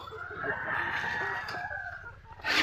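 Brown chickens cluck and call close by, one drawn-out, crow-like note standing out over a low rumble of background noise.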